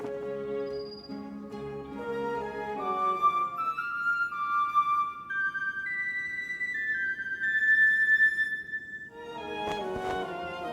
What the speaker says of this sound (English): It's a bone whistle.